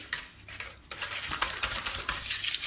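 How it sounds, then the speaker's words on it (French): Eggs and sugar are whisked briskly in a bowl, producing quick rhythmic metallic clinks and scrapes that repeat close up without pause, with no voices. "on met les œufs dans le saladier avec le sucre. Et là, on vient fouetter pendant environ 20 secondes"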